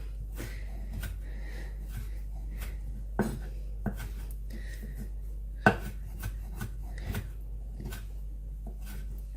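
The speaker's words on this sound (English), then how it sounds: "I'm chopping the parsley a little bit smaller than just ripping up what I did in the first place." A knife chopping fresh parsley on a board, with irregular soft taps and a few sharper knocks, close by and fairly quiet over a steady low hum.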